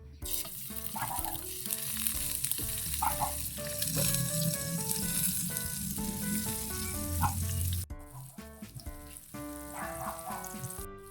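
A hotdog fries in a pan with a constant crackling sizzle that runs throughout, partly masked by background music, with no voices.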